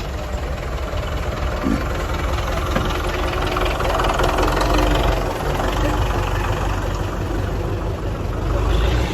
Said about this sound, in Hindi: भाई जफर जो है उनका ट्रैक्टर है।